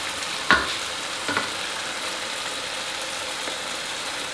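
Green chillies tossed into a frying karahi at a Pakistani street food stall, with a sharp burst of sizzle and clinks over a steady, busy frying hiss.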